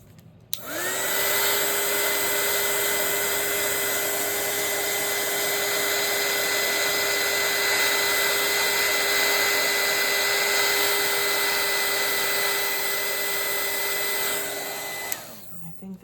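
A hair dryer blowing on a watercolor painting, switched on and running with a steady loud whine and airy roar for about fifteen seconds, then switched off, with no talk over it.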